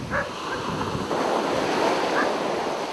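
Ocean waves break against the shore where the Paraíba do Sul river meets the sea, a continuous loud broadband wash of surf with rising swells, mixed with wind buffeting the microphone.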